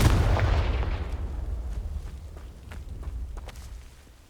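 A Confringo explosive spell cast in Hogwarts Legacy gives a loud, booming blast up front, then a long rumbling decay with faint scattered clicks.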